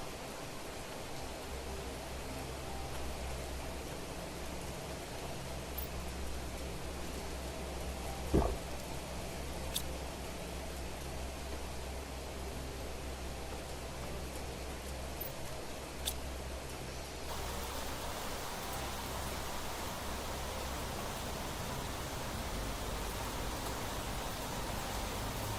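Rain in the Planet Crafter video game makes a steady, even hiss of falling drops across the whole stretch, with a few faint clicks and a brief low thump partway through.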